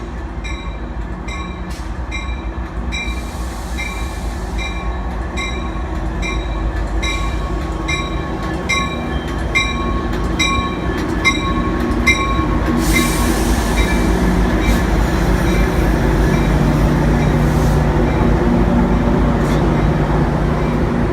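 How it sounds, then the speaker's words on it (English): The Angels Flight funicular railway car in downtown Los Angeles rumbles steadily along the rails, with rhythmic clacks and occasional high metallic squeals from the wheels, loud and continuous throughout. "So we're on the train."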